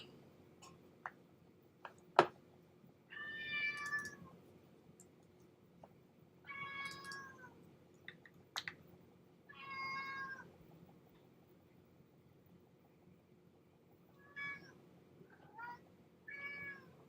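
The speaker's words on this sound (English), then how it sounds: "I have my assistant cat here who's bugging me for treats tonight." A house cat begs for treats with a string of clear, close meows, spaced every few seconds in a quiet room, a couple of sharp ticks and clicks scattered between them and a faint low hum underneath.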